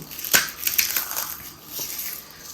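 Several crisp cracking and crunching snaps, close and fairly quiet, as something brittle is broken apart by hand.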